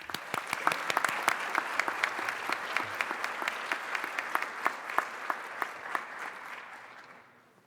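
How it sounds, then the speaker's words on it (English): Audience applause at a doctoral hooding graduation ceremony, a dense, steady round of clapping from a large crowd lasting several seconds before tapering off at the end. "Let's give them a round of applause."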